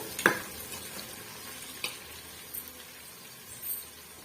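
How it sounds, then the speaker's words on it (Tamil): Onions sauté in a pan for Chettinad chicken biryani, a quiet sizzle broken by a few brief stirring scrapes and clicks, with no talk. "பாருங்க வெங்காயம் நல்லாவே வதங்கி வந்துடுச்சு"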